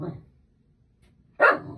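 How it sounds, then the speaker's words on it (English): A dog barks once, loudly and close, a sharp burst near the end after a brief lower bark or voice at the start and a quiet pause between. "My dog has a lot to say today."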